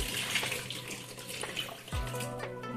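Water sloshing and running in a bowl as raw mutton is washed in a home kitchen, a steady close watery wash with a brief swirl or pour near the end.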